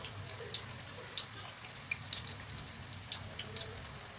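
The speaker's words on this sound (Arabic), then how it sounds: "غادي ندير واحد المقله فيها الزيت يكون سخون صافي، وغنوضع المعسله ديالي تقلى" Honeyed bird's-tongue pastry dough frying in hot, clean oil: a quiet, steady crackle with scattered sharp little pops close by, and no talking.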